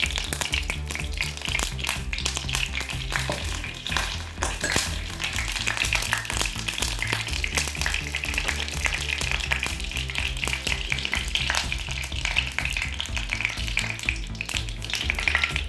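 Coconut oil heats and sizzles in a pan on the stove, ready for frying seasoned fish, with a steady hiss running throughout beneath what sounds like background music.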